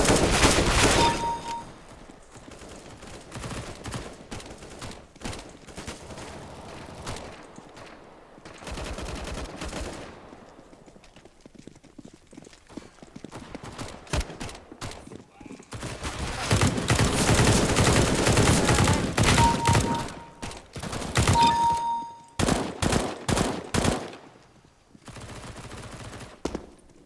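Bursts of video-game gunfire from CS:GO Arms Race, with rapid volleys and single shots coming in clusters, some loud and close, others thinner, separated by quieter gaps over about half a minute.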